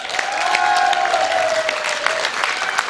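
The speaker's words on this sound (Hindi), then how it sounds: "कल होने वाले एडवांस धमाके में आज तालियां बजा दीजिए सर के लिए" A crowd claps steadily, dense applause throughout with a faint tone running under it.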